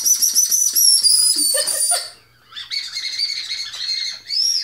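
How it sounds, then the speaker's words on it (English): Shrill, warbling whistle blasts from a candy whistle, a few bursts with a brief pause in between, loud and close. "We're going to do the whistle candy."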